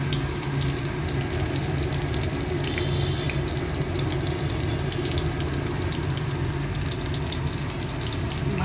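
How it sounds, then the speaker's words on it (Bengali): Pabda fish dipped in gram flour batter sizzle in hot oil in a pan, a loud, continuous crackling fry that runs steadily throughout with no talking. "ভাজা, এই যে ভাজা হচ্ছে।"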